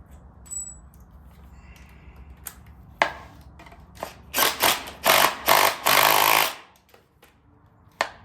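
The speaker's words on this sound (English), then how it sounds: "And to tighten this nut back on." Rapid bursts of a power ratchet or impact tool tightening a nut on a 1967-1972 Ford F100 door, several close, loud whirring pulses in quick succession, then quiet.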